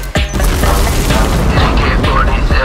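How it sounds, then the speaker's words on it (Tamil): Bomb blast explosion from the Thunivu film trailer: a loud, sharp boom opens, then dense rumbling debris and crashing sustained at high level, with a few further thuds near the end. "அந்த சீன்ல தான் இந்த பாம் பிளாஸ்ட் எல்லாம் வெடிக்கும் போல"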